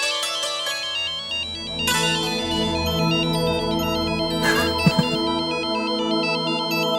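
A melodic electronic ringtone plays continuously, a bright repeating tune sounding steadily and fairly loud, with a couple of faint clicks partway through.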